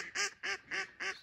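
Ducks on the water during a spring goose and duck hunt give four evenly spaced, nasal quacks, moderately close and clear against a quiet background.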